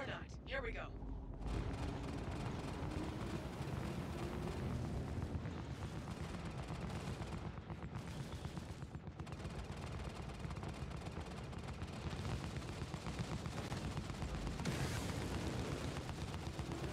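Sustained weapons fire and explosions in a space battle against a Xeno ship in the game Star Citizen: a dense, continuous roar of booms and gunfire with rumbling engine noise, while voices talk over it.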